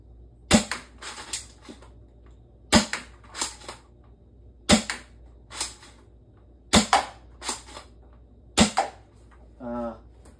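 A toy foam dart blaster fitted with an upgraded spring, a spacer and a long barrel, shooting at around 230 FPS in a test. Sharp, close pops come singly and in quick pairs, about nine shots, with a brief whirring sound at the end.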